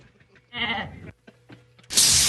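A sheep bleats once in a wavering, nasal cry, followed by faint scattered sounds and a sudden loud burst of broadband noise at the end.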